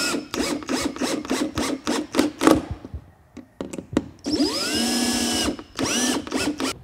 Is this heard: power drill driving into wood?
yes